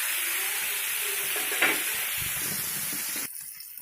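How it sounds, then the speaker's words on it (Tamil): Masala-coated fish fries on a hot tawa, South Indian Arcot style, with a loud, dense, close sizzle that carries on steadily, briefly flares, then cuts off near the end. "நம்ம இந்த தவாலையை போட்டு கொஞ்சம் நேரம் ஃப்ரை பண்ண போகிறோம்"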